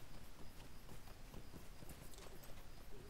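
A horse in a video game clip-clops along at a steady walking rhythm, its hoofbeats faint and distant under a soft ambient wash, with no talking.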